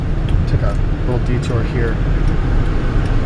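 A 2007 Hyundai Entourage with about 145,000 miles drives along, its steady road and engine rumble running continuously beneath someone talking.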